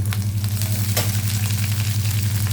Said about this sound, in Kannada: ಬೆಳ್ಳುಳ್ಳಿ ಈರುಳ್ಳಿ ಫ್ರೈ ಆಗಿದೆ ಪುದೀನ ಹಾಕ್ತಿದ್ದೀನಿ